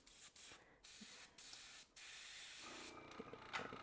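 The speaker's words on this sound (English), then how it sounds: "I'll just airbrush yellow on top." An airbrush sprays yellow acrylic paint in close, soft hissing bursts. Several short spurts with brief gaps give way to a continuous spray.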